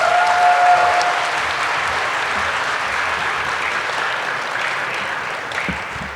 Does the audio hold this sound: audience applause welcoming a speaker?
yes